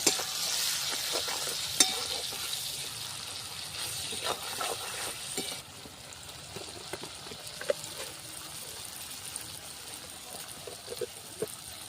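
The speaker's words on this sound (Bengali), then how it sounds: "এবার আমি একটু সামান্য লঙ্কার গুঁড়ো দিয়ে দিলাম, দিয়ে এবার ভালো করে মিশিয়ে নেব" Chili powder and turmeric are stirred into a frying curry of pabda fish and home-grown tomatoes. A steady, fairly quiet sizzle runs throughout, broken by scraping stirs and small clinks of a spoon against the pan.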